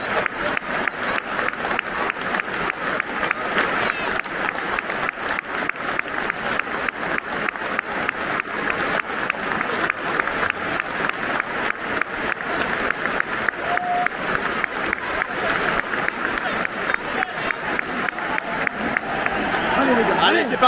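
A dense, sustained wall of clapping fills the football stadium at the Allianz Riviera before Nice play OM, going on steadily for about twenty seconds with crowd noise underneath.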